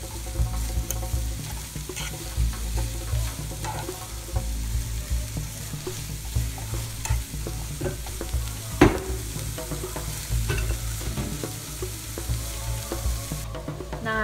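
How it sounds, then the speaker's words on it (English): Onions fry in a pan while being stirred, giving a steady close sizzle with scraping stir sounds throughout and no talking. "Stir until the onions become a little soft,"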